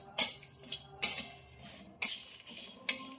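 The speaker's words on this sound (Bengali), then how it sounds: "ভাজার জন্য খুব ভালোভাবে নেড়ে দেবো।" A spatula stirs spices frying in a wok (kadai), giving four sharp metallic clinks against the pan at roughly even intervals, with a faint sizzle between them and no voices.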